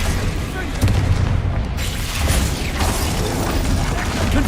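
A Glacius spell cast in the video game Hogwarts Legacy comes through as a loud, dense wash of magical whooshing and mechanical rumble with booming low thumps, continuous throughout, and a voice speaking over it.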